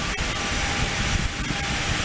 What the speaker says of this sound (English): there is an aircraft landing at KARR right now